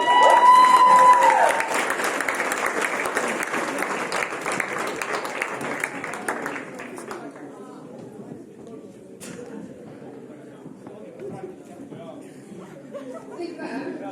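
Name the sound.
audience applause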